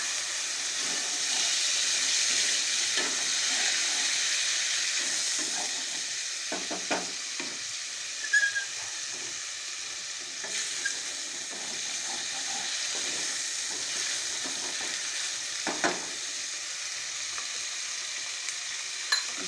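Ginger stirred in a hot pan sizzles steadily at low volume, with scattered scraping and clinking of the spoon against the pan throughout and no talking.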